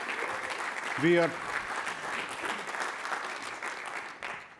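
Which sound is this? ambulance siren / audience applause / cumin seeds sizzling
audience applause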